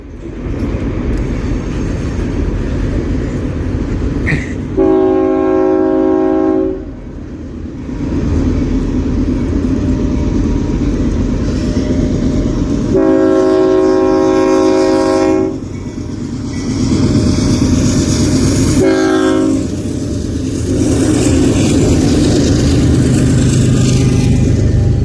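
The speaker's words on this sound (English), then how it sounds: "Here comes another train, Kevin." A freight train rolls past on the line at Slover Avenue in Colton, California, with a steady loud rumble throughout and three blasts of its horn, the second long and the last brief.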